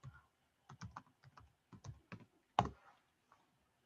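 Keys on a computer keyboard tapped in short bursts as a password is entered, about a dozen close, crisp clicks with uneven rhythm and one heavier final keystroke, with no voices.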